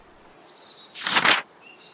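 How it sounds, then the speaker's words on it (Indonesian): A magpie-robin gives a quick run of high chirps, then a burst of wings flapping close by, followed by softer calls, clear and near. "seekor burung murai bernama Rio pindah ke pohon besar di dekat rumah Mira"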